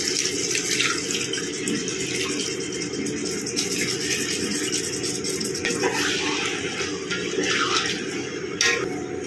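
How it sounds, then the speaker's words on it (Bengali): Water pours steadily into a pan of simmering vegetable curry with ridge gourd and prawns, a continuous close splashing and gurgling stream that runs unbroken for several seconds. "এবার আমি জল দিয়ে দিচ্ছি।"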